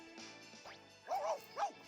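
Pluto the dog in the Disney Magical World video game gives a few short, soft barks and yips, two clearer ones near the end, over quiet game music.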